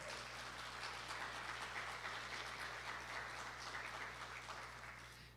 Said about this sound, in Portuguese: uma salva de palmas para Deus aí.